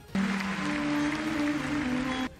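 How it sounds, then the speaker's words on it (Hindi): A packed stadium crowd applauds as the singer arrives on stage, a dense, even roar of clapping that starts and stops abruptly, with faint tonal sounds beneath it. "जैसे ही वो दर्शकों से भरे स्टेडियम के मंच पर पहुंची तो लोगों ने तालियां बजाकर उनका स्वागत किया"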